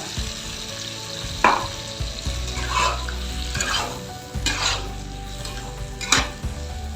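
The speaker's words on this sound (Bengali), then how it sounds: "দিয়ে দিচ্ছি সর্ষে বাটাটা।" Mustard paste ground with green chilli being stirred into softened frying green tomatoes, with rhythmic scraping strokes of a spoon against the pan over a steady sizzle.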